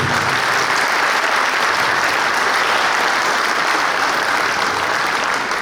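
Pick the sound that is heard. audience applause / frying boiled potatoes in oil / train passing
audience applause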